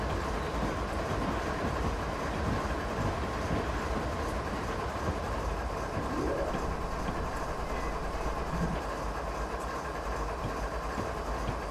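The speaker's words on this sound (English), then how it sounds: "Oh, hey, there goes an Amtrak." Amtrak train passing in Train Sim 2015, a steady continuous rail rumble with faint clickety-clack running evenly throughout, no distinct approach or fade, heard without talking.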